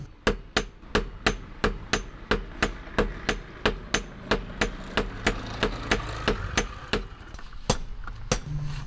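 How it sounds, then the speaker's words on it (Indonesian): A traditional blacksmith hammers hot iron flat with a hand hammer, a steady run of sharp, ringing blows repeated about three times a second, loud and close with no talk. "Setelah besi dan logam panas, kemudian akan dipukul-pukul memakai palu, hingga besi tersebut pipih."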